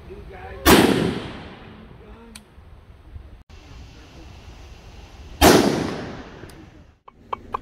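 Two loud rifle shots, about five seconds apart, fired through a muzzle brake fitted with a blast shield outdoors, each a sharp crack with a decaying echo, separated by quiet ambience and small clicks.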